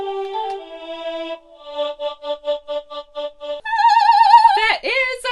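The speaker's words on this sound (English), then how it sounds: "Oh, is there Space Choir?" Space Choir preset on a Digital Wind Instrument Pro 2, a synth voice evoking 90s keyboards, playing sustained tones, then a run of short repeated pulsed notes, then a brighter wavering held chord with a pitch bend at the end, heard alone.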